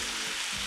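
Water poured into a hot, sizzling pan of spiced gongura dal base with turmeric, salt and chili powder, a steady, loud hiss and crackle filling the short moment without any voices.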